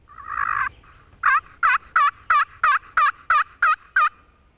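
Wild turkey in South Jersey during spring turkey season, gobbling in a rapid run of nine or so sharp, evenly spaced bursts after an opening call, loud and fairly close with no talk.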